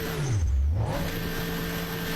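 Bugatti engine in GTA 5 revving hard while its tyres spin and bog down in mud, a loud close roar that sweeps downward in pitch then holds a steady strained drone.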